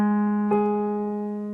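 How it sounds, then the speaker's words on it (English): A sustained reference pitch "do" sounded for a sight-singing exercise, a single steady, clear tone held for over a second, close and fairly loud, no voices. "So this is do."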